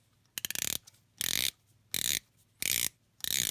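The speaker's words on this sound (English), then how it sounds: "Give a turn of the bezel here." Bezel of a Baldieri SM-46 Seamonster dive watch turned by hand, giving four quick bursts of crisp ratcheting clicks with short pauses between, close and distinct with no voice.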